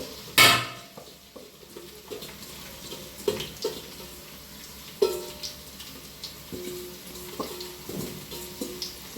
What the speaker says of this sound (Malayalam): അതുവരെ നമുക്ക് പെട്ടെന്ന് വഴറ്റി കൊണ്ടുവരാം ഇനി ഇതിനകത്തേക്ക് ഞാൻ അരിഞ്ഞ സവാള ഇതിനകത്തേക്ക് ഇട്ടു